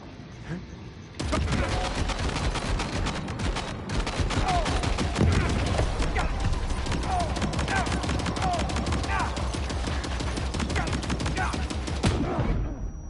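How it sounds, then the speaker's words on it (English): Sustained gunfire in Death Stranding 2 as the player shoots an enemy, dense rapid shots running steadily for about eleven seconds, loud and close, with some voice mixed in. "I'll just shoot him up."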